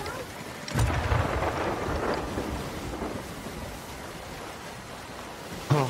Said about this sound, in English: Thank God we're out of the storm.